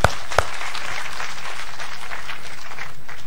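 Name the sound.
audience clapping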